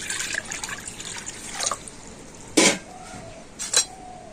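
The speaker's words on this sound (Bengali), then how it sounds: "তো প্রথমে আমি একটা জায়গাতে করে জল নিয়ে নিচ্ছি" Water is poured into a container, giving splashing and a trickle with a few clinks against the vessel. The sound is close and moderately loud and comes in uneven bursts.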